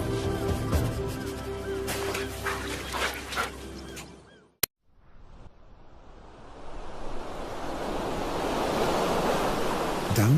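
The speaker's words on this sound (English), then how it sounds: "where the river meets the sea." Sea surf where a river meets the sea on the African coast makes a steady, rushing roar that builds after a brief break, with earlier music fading out beforehand.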